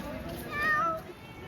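A cat in Hanoi gives a single short meow, close and clear, heard over a steady outdoor hiss with people talking nearby.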